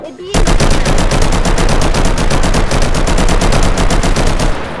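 Fast, evenly spaced gunshots from a gun in the VR version of the Roblox game The Strongest Battlegrounds fire in one long, loud, close burst lasting about four seconds before stopping abruptly.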